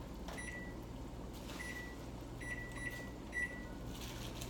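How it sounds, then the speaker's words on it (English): A kitchen timer is set for pasta, giving several short, faint beeps spread over a few seconds against a steady low kitchen hum. "I'm going to set my timer"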